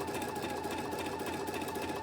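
An embroidery machine sews a placement stitch on a bunny design with a steady, dense mechanical chatter, close and continuous throughout.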